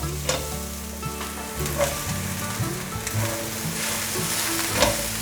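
Carrots stir-fried in a wok with enoki mushrooms, giving a continuous close sizzle broken by repeated light spatula clicks and tosses, with no one speaking.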